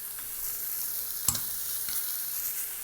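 Fillet steak with pepper roasting in a hot pan gives a steady, close sizzle throughout, broken once by a short clatter, as if from a utensil.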